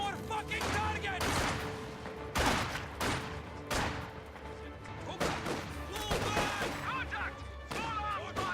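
Heavy machine gun fire in a tactical shooter game, dense overlapping bursts and explosions running continuously, loud and close, with voices talking over the battle.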